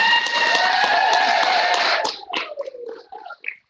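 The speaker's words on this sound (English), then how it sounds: "Let's give a round of applause for our star students in second grade." Students at a school assembly receive a warm round of applause from the audience; the clapping is dense and steady for about two seconds, then fades into scattered claps and murmuring.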